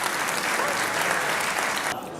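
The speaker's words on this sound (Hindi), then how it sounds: "आप सब की तालियों में इस्तकबाल कीजिए" An audience at a mushaira poetry recital in Islamabad breaks into sustained applause, a dense, steady wash of many hands clapping that fades slightly near the end.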